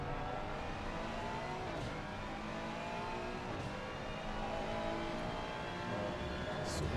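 Race cars in a sim racing endurance event at the Hungaroring, a McLaren chasing a Ferrari, give a steady buzzing engine drone with shifting pitch, moderately loud and continuous for the whole stretch.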